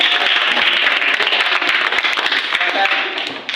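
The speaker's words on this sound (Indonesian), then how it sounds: "tepuk tangan untuk kelompok 5" Classroom applause for a student group after a presentation, a dense burst of many hands clapping close by, steady and loud across the whole stretch before tapering slightly at the end.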